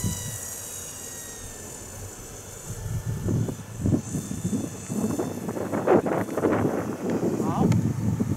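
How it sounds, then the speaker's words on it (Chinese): A Ranger 600 RC model airplane flies slowly back toward the people on the ground, its faint, steady propeller drone running through the background while someone talks over it. "它飞机就会慢慢的朝我们这个方向飞回来"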